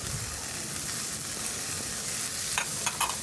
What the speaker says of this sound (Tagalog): Ihalo lang din hanggang sa magisa lang na mabuti yung patatas at carrots.